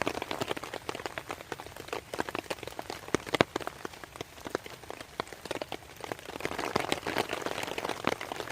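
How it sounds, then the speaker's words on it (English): Steady rain patters on a wild camping shelter, dense drops tapping close by in an even, continuous wash with occasional heavier splats, no voices. "It's not just an audio thing, it's a visual thing as well, seeing the raindrops running down the top."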